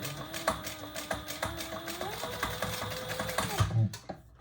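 A sewing machine stitches a seam on a Colette bowler bag, running in a fast steady chatter close up for about three and a half seconds before stopping, with no talk.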